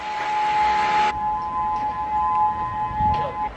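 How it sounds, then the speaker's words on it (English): Hurricane warning sirens on Kauai wail as a steady, sustained tone heard from a distance outdoors, with a louder broadband burst at the start and faint background noise. "the sirens are going off."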